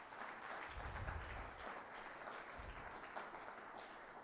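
A conference audience gives a round of applause, a soft, fairly distant wash of many hands clapping that holds for several seconds at low level.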